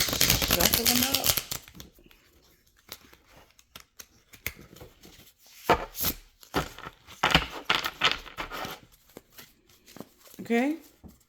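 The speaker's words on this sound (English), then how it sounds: "I'm going to shuffle them up." Tarot cards are shuffled by hand in a quick flurry of riffling at the start, followed by scattered soft card slaps and handling sounds with brief pauses between them.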